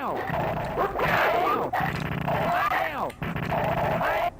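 Dog barking in the Earthworm Jim video game, a rapid series of loud yips and bow-wows in three bursts separated by brief pauses.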